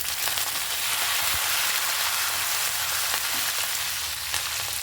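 Dried red chillies, green chillies and curry leaves frying in hot oil for a tempering, a steady dense sizzle that stays loud and even throughout with no talking.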